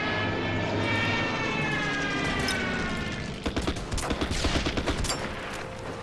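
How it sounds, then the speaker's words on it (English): A Stuka dive bomber in a war video game drones loudly overhead with a whining engine, then rapid bursts of gunfire and impacts crackle in a dense, close barrage. "We also have the Stuka. Use the Stuka up here."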